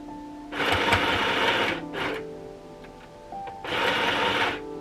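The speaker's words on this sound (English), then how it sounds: "To just start sewing again." A home sewing machine stitching fabric: two close, buzzing runs of rapid needle strokes about a second long each, separated by a brief stuttering burst and quiet pauses.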